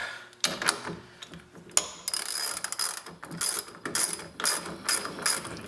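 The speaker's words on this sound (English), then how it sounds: "I gotta get my socket wrench back out" A socket wrench ratchets in quick bursts of dense clicking while loosening a tightly threaded part during a gear repair on a Sega OutRun arcade machine, close up, with short pauses between strokes and no talking.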